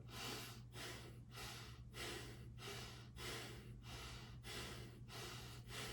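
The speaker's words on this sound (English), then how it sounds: "Going into one more round of Bhastrika." Rapid, rhythmic Bhastrika yoga breathing: about a dozen forceful, even inhale-exhale bursts in a steady pulse, close but fairly quiet, with no talking.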